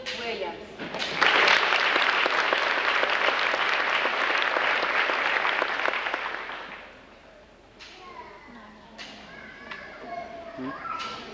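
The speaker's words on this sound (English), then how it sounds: "give them another round of applause" Audience at a 1996 middle school graduation claps in a dense, sustained burst of applause lasting several seconds before fading into scattered voices and murmur of the crowd.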